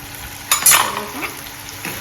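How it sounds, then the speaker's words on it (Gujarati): A sharp burst of sizzling as curd hits hot oil for tempering, followed by stirring scrapes and a softer crackle fading out. "દહીં વઘારી લઈએ"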